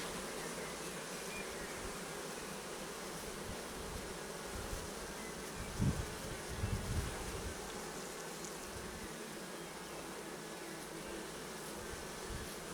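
Honeybees swarm around an open Layens divisible hive, a dense continuous buzz close by and steady throughout, with a couple of faint thumps from handling the hive midway.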